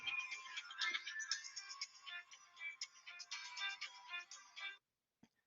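A mobile phone rings in a classroom with a bright melodic ringtone that loops steadily for several seconds, then cuts off abruptly, followed by a brief tap.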